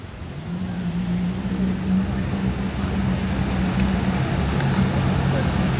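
Ferrari Enzo and LaFerrari supercars driving past on Monaco streets, a steady low engine drone with a sustained hum over busy road ambience, moderately loud and continuous, while someone talks over it.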